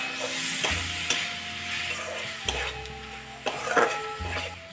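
Spice masala sizzles in oil in a pan while being stirred for an okra and onion curry, a steady frying hiss broken by scrapes and clinks of the spoon against the pan, with low rumbling in between.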